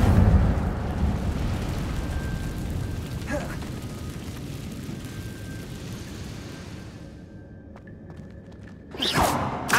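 A fire spell cast in Hogwarts Legacy bursts out in a loud whooshing blast near the end, after a long low rumbling stretch of ambient game sound with faint tones.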